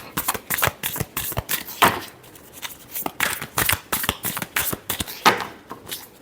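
Tarot cards are shuffled by hand in a rapid series of crisp riffling slaps and flutters, loud and close with irregular rhythm and no talk.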